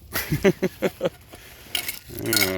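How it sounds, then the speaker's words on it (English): Several sharp metallic clanks and scrapes of a frying pan being handled, close by, followed by a rustling shuffle. "Frying pan."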